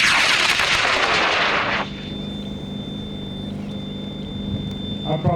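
Model rocket launched on an H135 motor, a loud roaring rush of exhaust for about two seconds that fades into a quieter hiss as it climbs away, with a steady tone persisting after.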